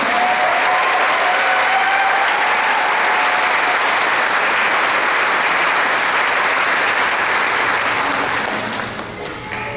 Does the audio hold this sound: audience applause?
yes